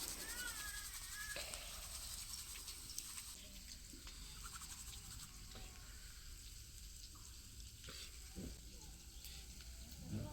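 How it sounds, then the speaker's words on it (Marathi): Onion frying with cumin and mustard seeds on a wood-fired clay stove, a steady faint sizzle and patter running throughout with a few brief crackles and nearby clinks. "जिरे मोहरी आणि थोडंसं काय टाकलं आहे कांदा तर हे आता चांगलं तळून द्यायचं"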